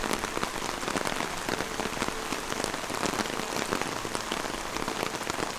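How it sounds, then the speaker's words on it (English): Heavy rain pours down steadily and loudly at a theme park, a dense, continuous hiss of drops drumming on surfaces with no talking. "It is really coming down right now."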